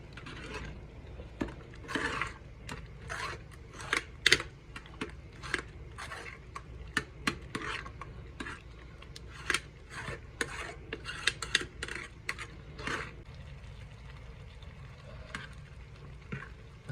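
A spoon scrapes and clinks against a pot while pumpkin cooked with jaggery is stirred. Irregular metallic taps and rasps repeat over a soft background.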